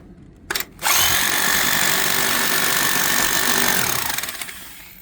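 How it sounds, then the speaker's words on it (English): A loud, continuous jackhammer grinds and hammers steadily into rock for several seconds after a couple of short bursts, then tapers off near the end. "So let's get the jackhammer out"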